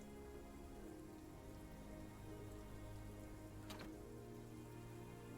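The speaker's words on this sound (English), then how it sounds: "This rain never finishes." Rain falls in a steady, even patter that keeps up throughout, quiet and continuous with no voices over it.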